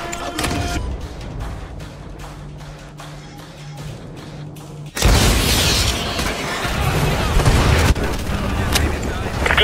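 AGM missile strikes in a Call of Duty mission at Petropavlovsk, Russia: faint tapping and thuds give way halfway through to a sudden loud roaring blast that rumbles on to the end.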